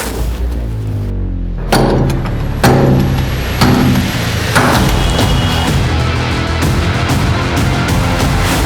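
Hammer blows in a Hindi crime drama scene, about four heavy, evenly spaced impacts that are loud against a dense, continuous background.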